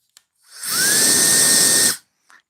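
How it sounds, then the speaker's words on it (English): A whoop box gives a high, whining dentist-drill-like buzz with a steady pitch that rises in, holds for about a second and a half, then cuts off, alone and fairly close. "It does kind of have a little bit of a dentist drill sound to it"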